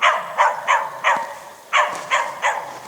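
Dogs on a rural homestead in spring bark in a string of sharp yips at a moderate distance, about seven barks in uneven rhythm, with no one talking.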